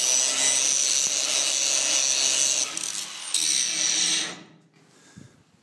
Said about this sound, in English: Just cleaning this all up with the grinder, getting rid of all that scale.